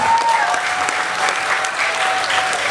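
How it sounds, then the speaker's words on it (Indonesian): A crowd claps steadily and fairly loudly for a few seconds, a dense wash of applause with no break, among outdoors enthusiasts and mountain climbers. "Tepuk tangan dong"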